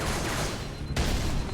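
Gunfire in Halo 3, aimed at the player, comes as a dense, continuous burst of rapid shots that fills the whole moment, loud and close, with a brief dip partway through.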